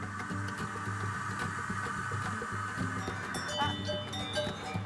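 Cowbells clank irregularly on grazing dairy cows in Vissoie, Switzerland, over steady low ambient noise, with a faint rustle of animals moving nearby.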